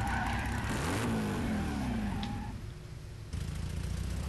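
A car skids in a Muv Luv visual novel sound effect, a loud engine and tire screech sweeping down in pitch and fading out, followed by a short burst of noise.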